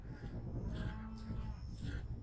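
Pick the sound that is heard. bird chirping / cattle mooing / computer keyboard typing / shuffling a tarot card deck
cattle mooing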